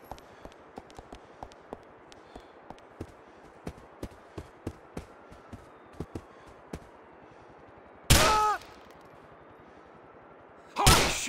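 Grand Theft Auto 4 gunplay: a string of sharp, evenly spaced shots cracks over a low background, followed by two loud, dense bursts of fire near the end.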